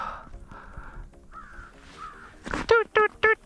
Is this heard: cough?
no